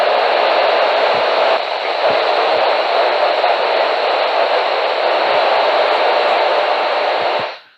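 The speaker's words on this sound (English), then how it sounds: "This is a static for you all to hear." Steady hiss of radio static from an amateur satellite downlink, a loud, even broadband noise lasting about seven seconds with a few faint low clicks before cutting off.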